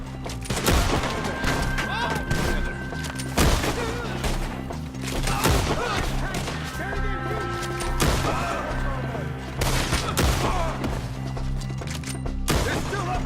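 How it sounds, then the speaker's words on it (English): Repeated gunshots and volleys in Red Dead Redemption 2 crack out at enemies perched high in trees, sharp loud bursts spaced irregularly across the clip amid game ambience and mixed with voices. "Shoot the ones up there first!"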